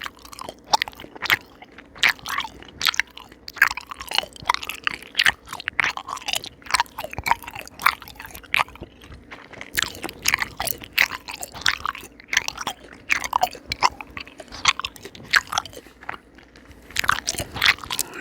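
Someone chewing original flavor Bubble Tape bubble gum close to the mic, giving a continuous run of wet, crunchy, squishy bites and smacks that stays loud and alone throughout.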